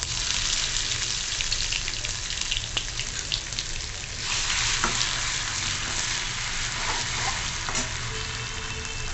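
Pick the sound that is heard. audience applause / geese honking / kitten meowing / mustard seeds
mustard seeds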